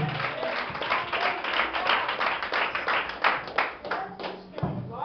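Church congregation clapping hands together in dense, continuous applause, loud and close, with many overlapping claps and a voice speaking faintly underneath.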